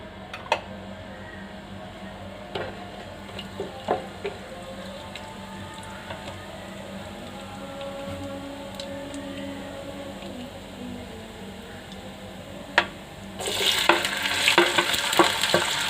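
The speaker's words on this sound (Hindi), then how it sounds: "प्याज को हमें हल्का ब्राउन कर लेना है।" Onions fry in a cup of hot oil in a pan with cumin, cardamom and black pepper, a soft continuous sizzle with scattered crackles and spoon taps, swelling into a louder spitting hiss near the end.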